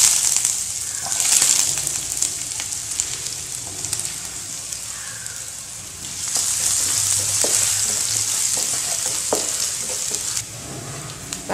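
Mustard seeds and ginger fry in hot oil for a dry ginger and pepper kuzhambu, giving a steady, close sizzle with scattered crackles and pops throughout, and no voices.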